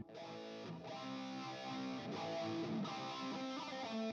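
A distorted electric guitar with an 80s tone plays sustained chords and single notes, washed in reverb that smears the attacks, loud and continuous.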